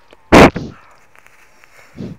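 A loud single gun blast in the World War II shooter game Call of Duty: World at War, followed by a short burst of fainter shots and a softer thump near the end.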